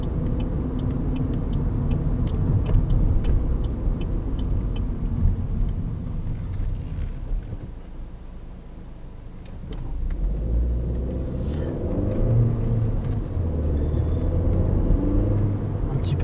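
A 2013 Opel Astra 1.4 turbo 120 builds a steady, moderately loud engine drone as it accelerates, heard from inside the cabin, with a faint voice over the rumble.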